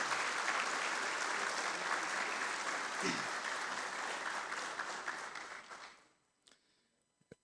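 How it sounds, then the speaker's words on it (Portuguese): Sustained applause fills a legislative chamber during a solemn session, a dense crowd clapping steadily for about six seconds before tapering off into near silence with a few stray sounds. "Então, uma salva de palmas."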